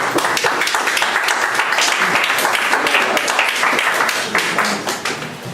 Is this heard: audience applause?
yes